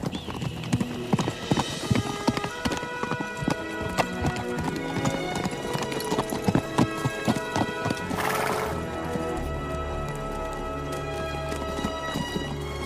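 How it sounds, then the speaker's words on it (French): A horse gallops in with a rider, its hooves clip-clopping in a fast rhythm, loud and close, and a whinny sounds out partway through. "Un cavalier qui arrive au galop."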